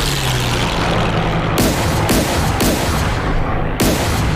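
Heavy 88 mm flak guns pound away in a WWII flight combat game, a dense, roaring wall of noise with several sharp booming bursts landing about half a second apart.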